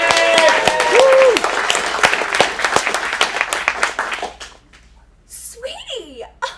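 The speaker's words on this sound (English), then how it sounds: "Let's give a round of applause." Audience applause and cheering at an adult acting showcase in a Phoenix studio, loud at first with a voice rising over the clapping, then fading to near quiet before a sharp brief burst and more voices.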